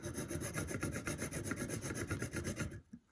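A knife is swept again and again across a sharpening stone in a rapid, even rhythm of close, gritty rasps, and the sound stops abruptly near the end.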